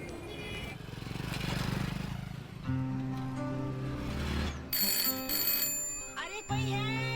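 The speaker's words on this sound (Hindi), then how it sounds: "अरे कोई है, फोन तो उठाओ।" A telephone rings in a Hindi film scene, its electronic ringtone repeating in bright, buzzy bursts over a low humming background, ending with a few sliding tones.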